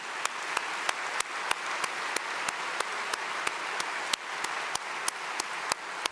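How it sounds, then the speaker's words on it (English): An audience at a talk on America's public lands applauds government workers, a steady, moderately faint spread of clapping with a few crisp, louder claps standing out at regular intervals. "Could we give these guys a round of applause?"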